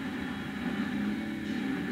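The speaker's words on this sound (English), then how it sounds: "That sound. Just that's my turbo." Off-road vehicle turbo spooling inside the cab, a steady droning whine layered over a low engine rumble, moderately faint and continuous for two seconds.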